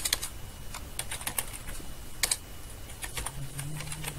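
Command being typed on a computer keyboard in an Ubuntu terminal, a quick run of close, crisp key clicks in bursts with short pauses, with no talk.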